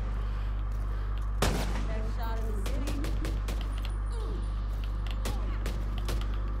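Rifle gunfire in The Division 2, a handful of sharp single shots spaced irregularly over a constant low game hum, one louder crack early on followed by scattered quieter reports.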